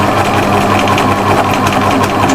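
A sewing machine stitches appliqué in steady circular free-motion pebble patterns, its motor running loud, close and continuous with an even rapid rhythm.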